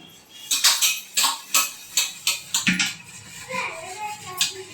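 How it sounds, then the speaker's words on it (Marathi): Dishes and cutlery being washed clatter in a quick series of sharp clinks and scrapes, fairly close, followed by softer rustling handling sounds. "मम्मी भांडी घासत आहे"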